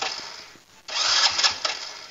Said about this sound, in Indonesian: tinggal pencet double starter